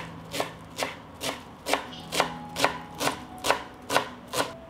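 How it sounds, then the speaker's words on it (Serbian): Fresh parsley chopped with a knife on a board, a steady series of about ten crisp, evenly spaced cuts, close and clear with no talk. "iseckat ću jednu manju vezu svežeg peršuna"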